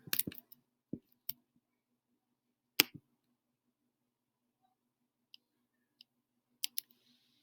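Sharp, isolated computer mouse clicks while building an online classroom assignment, single and double clicks spaced irregularly across quiet, close and crisp with faint background hum.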